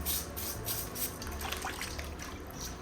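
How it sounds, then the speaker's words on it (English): Meat being scrubbed with a brush in water, making soft, steady splashing and sloshing with light scraping strokes, close by and fairly quiet. "as I'm washing the meat with the brush"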